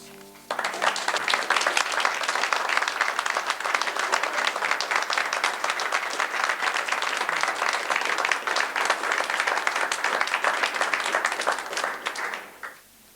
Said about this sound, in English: Well, that applause is all for you